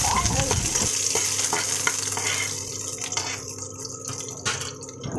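Garlic cloves crackle and hiss in hot oil in a home kitchen, a loud, close sizzle that softens and thins toward the end, with occasional stirring clinks.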